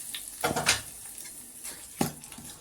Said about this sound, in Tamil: இப்போ தாளிச்சுக்காய் ஊற்றிக்கலாம்.